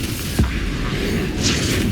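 A Bombarda spell in the video game Hogwarts Legacy goes off as a single deep booming blast, loud and close, followed by a brief bright crackle and steady rumbling game noise.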